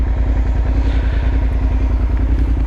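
Suzuki SV 650 motorcycle engine running steadily up close, a loud continuous throbbing idle with a low pulsing beat and faint mechanical clatter throughout.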